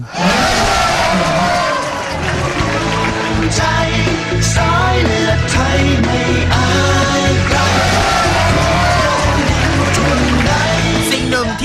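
Loud, dense crowd cheering and chanting at an election campaign rally in Don Mueang, Bangkok, sustained throughout like boxing fans roaring for their side, with voices shouting over the din.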